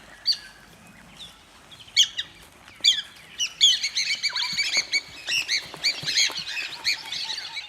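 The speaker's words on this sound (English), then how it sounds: "Piapiaks peck the insects the grazing pachyderms stir up and also gather" Piapiak birds call and squawk near grazing rhinos, a busy flock of sharp chirps and harsh squawks that starts sparse and builds into dense, overlapping calls at close range.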